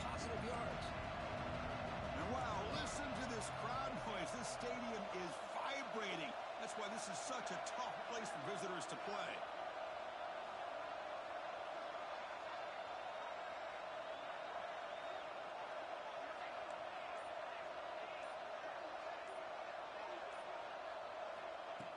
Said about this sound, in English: listen to this crowd noise. This stadium is fired